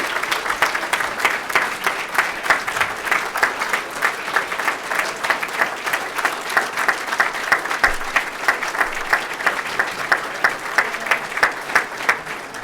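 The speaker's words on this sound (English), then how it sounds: "let's give one more hearty round of applause to all our new inductees" A hall audience at an induction ceremony for the class of 2022 gives a long, hearty round of applause, dense rhythmic clapping that stays loud and even for the whole stretch.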